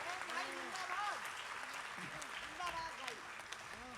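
Audience applause at a Hindi kavi sammelan poetry gathering, steady clapping throughout with voices and cheering mixed in over it.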